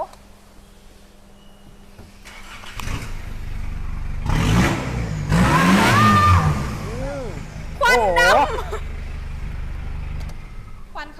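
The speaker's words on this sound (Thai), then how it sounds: "คันนี้มีท่อซิ่งหนึ่งใบ เสียงหวานหวานแจ๋วแจ๋ว" A car fitted with an aftermarket racing exhaust revs in short, loud bursts over a low idle, and people talk nearby between and after the revs.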